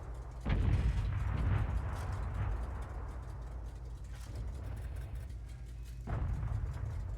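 Tank cannon fire in the World of Tanks video game, two deep booming shots several seconds apart with a long low rumble carrying between them, loud and close.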